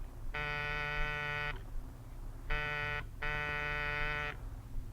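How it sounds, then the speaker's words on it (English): A harsh electric door buzzer sounds three times: one long buzz, a pause, then two more in quick succession, moderately loud over low background hum. "Buzz the buzzer."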